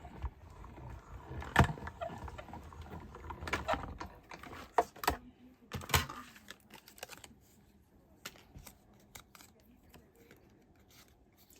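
A manual die cutting machine is cranked by hand while making a card, giving uneven close crackles, clicks and rubbing that grow busier in the middle, then thin out to faint ticks.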